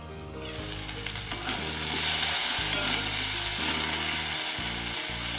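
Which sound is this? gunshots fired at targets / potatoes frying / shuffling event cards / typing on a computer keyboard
potatoes frying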